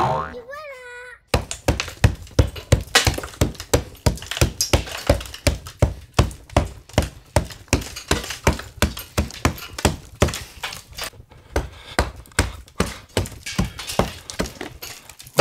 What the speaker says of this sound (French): donc 2-3 coups de masse